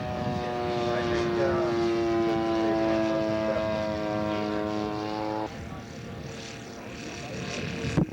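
Small scale model aircraft at a flying show, its propeller engine droning steadily with a sustained whine that drops in pitch partway through, heard continuously over outdoor ambience.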